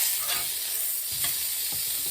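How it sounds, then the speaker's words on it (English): Polish sausage searing in a skillet gives a loud, steady sizzle throughout, with a few soft scrapes and knocks as the pieces are moved around the pan. "I just want to get a sear on these. A little noisy, I know."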